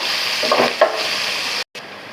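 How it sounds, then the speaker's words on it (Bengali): Chopped onion fries in a pan with a loud, steady sizzle, broken by a few scraping stirs and a brief drop near the end. "এখন আমি এই যে কুচি করা পেঁয়াজটা দিয়ে দিচ্ছি। ব্রাউন কালার হওয়া পর্যন্ত আমি হচ্ছে নাড়তে থাকবো।"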